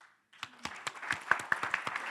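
Applause from an audience at a media festival pitch showcase for startup companies starts from near silence and builds into a brief burst of moderate clapping, with individual claps distinct and close.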